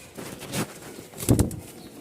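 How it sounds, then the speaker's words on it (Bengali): Two soft bursts of pigeon cooing and fluttering wings, close by, with brief quiet stretches between them. "এগুলো সব বাসাবাড়ির কবুতর"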